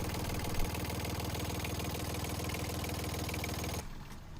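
A Yanmar 3YM30 marine diesel engine idles inside a 2008 Ranger Tug R21-EC, a steady rapid low chugging drone heard close in the engine compartment, dropping away at the end.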